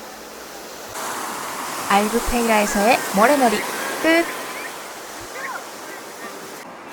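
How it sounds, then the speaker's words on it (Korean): Atlantic waves wash onto the beach at Albufeira, Portugal, as a steady, soft hiss of surf throughout. A voice speaks briefly in the middle, over the constant roar. "대서양의 바다바람과 함께 파도 소리를 들으면서"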